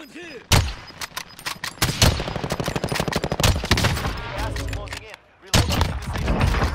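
Bursts of video game gunfire, sharp close shots and rapid machine-gun strings that start, stop and resume, loud and punchy, with a short lull near the end before another burst.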